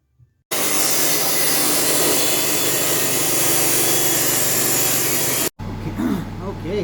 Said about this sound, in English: we're going to go ahead and use the good old chop saw here to square up the ends